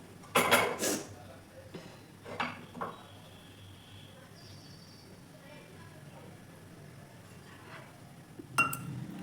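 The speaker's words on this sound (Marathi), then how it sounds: "आता आपण आपलं पात्र ठेवून घेऊ" An appe pan set down on the stove with a few sharp metallic clinks and clatters near the start and end, close, with quiet gaps between.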